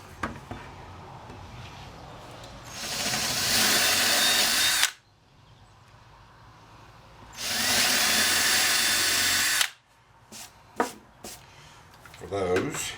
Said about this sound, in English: So I'm going to drill a 1/4 inch hole.